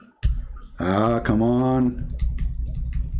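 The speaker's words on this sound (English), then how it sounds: "I'm typing. You see, it's not working." Fingers tap on a faulty computer keyboard, a run of light, quick clicks that continues after a man's short exclamation, close and fairly soft.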